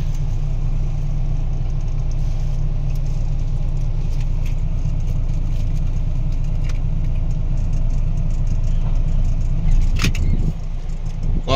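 Several excavators moving soil near a water pump installation site give off a continuous deep engine rumble that holds steady throughout, with an occasional faint metallic clank.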